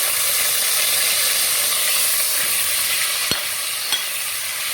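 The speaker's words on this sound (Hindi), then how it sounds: "आधा कप घी के अंदर लहसुन अदरक का पेस्ट डालना है।" Steady, dense sizzling of garlic-ginger paste frying in hot ghee, a continuous crackling hiss with a couple of faint clicks near the end.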